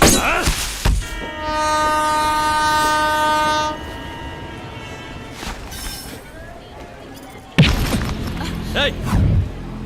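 A train horn blares for a few seconds, followed by rumbling rail noise, sharp clatters and some voices.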